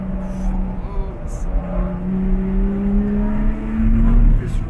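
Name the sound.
Lotus Exige 350 Sport braking on race circuit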